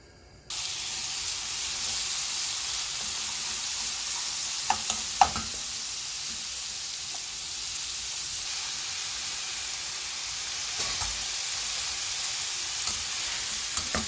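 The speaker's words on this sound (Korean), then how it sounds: "미역은 이렇게 볶아주세요" Chopped seaweed stir-frying in a pan with sesame oil and minced garlic, a steady close sizzle and hiss that runs almost the whole time, with a few brief scrapes of stirring.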